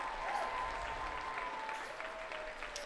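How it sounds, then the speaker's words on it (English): Stadium crowd at McLeod Athletic Park in Langley applauding and cheering before a USL soccer kickoff, a steady, fairly distant wash of clapping with a few whistles on top. "It sounds like the crowd is ready to go here at the McLeod Athletic Park in Langley"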